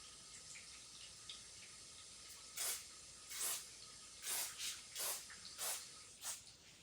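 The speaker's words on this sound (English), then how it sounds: "Step 2 will be to spray the bar." Short bursts of aerosol spray hiss as SuperLube is sprayed on a metal power cage rail, about six quick squirts at an uneven pace, close and fairly quiet over a faint background.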